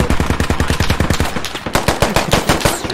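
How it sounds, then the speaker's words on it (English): Rapid automatic gunfire in the military shooter game Squad, loud and close, with a steady stream of sharp shots firing in quick bursts for the whole stretch. "We're getting shot."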